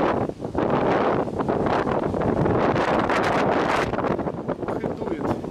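Strong wind roars and buffets a microphone on a motorcycle trip, a dense constant rush with gusty swells, while a person talks briefly underneath.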